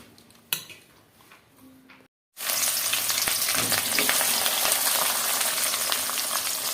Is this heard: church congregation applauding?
no